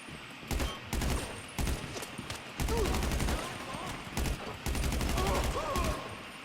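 Rapid gunfire in GTA 5 during a SWAT-mode shootout: repeated sharp bursts of shots in clusters, fairly close and loud, with a player occasionally talking in between.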